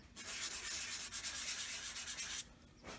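Light hand sanding on a glued part during a player piano pneumatics rebuild makes a soft, steady rasp for about two seconds before stopping, quiet and close with no talk.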